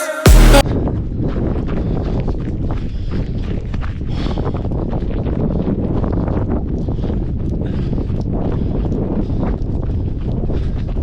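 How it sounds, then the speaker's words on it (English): Strong wind buffets a runner's face and roars steadily into the microphone in a loud, constant rush, with soft footfalls and rustling beneath it and a short burst of music at the very start. "As you can hear, there's a lot of wind coming right at my face."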